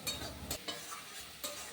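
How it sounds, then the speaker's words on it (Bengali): Paneer sautéed in spice paste in a pan, soft sizzling with a handful of sharp spoon scrapes and stirring strokes at irregular intervals, close but fairly quiet. "মশলার পেস্টে একটু কষিয়ে নিলাম"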